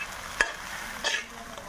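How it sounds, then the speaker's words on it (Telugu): Uggani being stirred in a pan as ground dal powder is added, two quick scraping stir strokes over a low frying hiss. "పప్పుల పొడి మిక్సీకి పట్టాను కదా, అదైతే వేస్తున్నా."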